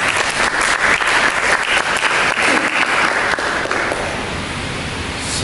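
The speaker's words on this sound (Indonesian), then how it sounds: "Mari berikan tepuk tangan." Congregation at a church service breaking into dense, loud applause that fills the room steadily, then thins slightly and settles toward the end with no speech over it.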